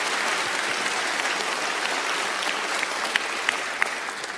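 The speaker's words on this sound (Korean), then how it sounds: "여러분 박수 한번 더" An audience at a talk-concert style public report event claps in a steady, dense wash of applause for several seconds, with a few sharper claps standing out near the end.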